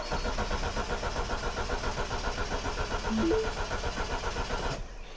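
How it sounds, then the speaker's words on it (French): A Mini's engine cranks steadily with a rapid, even starter rhythm, trying to fire without catching, fairly loud and close, then cutting off abruptly near the end. "je vais essayer de démarrer, on va voir déjà si ça démarre"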